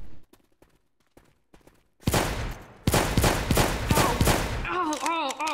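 Gunfire in Left 4 Dead 2: a quiet stretch of faint clicks gives way to rapid loud shots, then sustained automatic fire with a voice shouting over it near the end.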